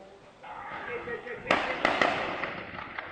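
Gunshots fired to drive back protesters crack out amid crowd noise and voices, several sharp reports at mid distance arriving close together in an uneven burst.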